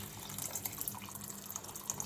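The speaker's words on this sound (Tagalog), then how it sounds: "At lagyan ng isang balding tubig." Hot water pours into a pot for salmon sinigang, a soft, continuous trickling splash with faint gurgles and drips, fairly quiet and close.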